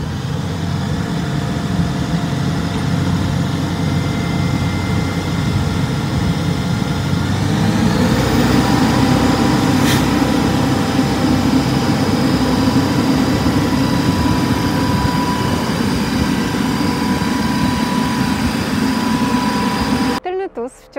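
An Arbos 4110 tractor strains against a dynamometer hitched to its rear three-point linkage, its engine a loud, continuous drone that grows heavier and more forceful about a third of the way in, holding under load until a brief break at the end.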